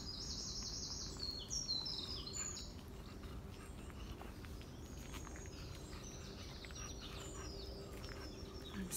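Birds chirp and sing faintly on a golf course near a beach, with thin, high calls in brief clusters over a quiet outdoor background hum.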